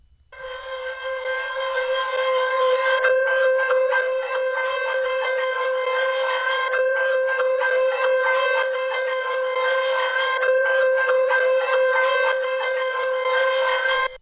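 Dark experimental sample layer run through a tremolo cassette effect plugin, giving a sustained siren-like tone that wavers and pulses steadily for the whole stretch, fairly loud and alone.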